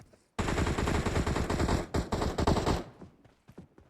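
Automatic gunfire in the battle royale shooter PUBG Mobile: a loud, close, sustained burst of rapid shots lasting about two and a half seconds, then a few scattered fainter shots trailing off.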